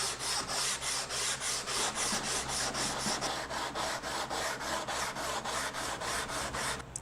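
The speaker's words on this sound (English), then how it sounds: "I'm just going to scuff up the bottom of the fretboard and the top of the neck here to get ready for glue" 220-grit sandpaper scuffs the neck and fretboard of a Telecaster Thinline-style electric guitar, making fast, even rasping strokes that repeat about three times a second, close and steady throughout.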